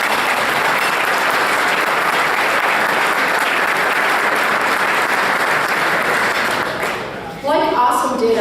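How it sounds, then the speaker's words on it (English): A crowd at a holiday luncheon gives a steady round of applause for an alumni board member, full and continuous for about seven seconds before dying down as a voice begins talking. "So if we can all give him a round of applause."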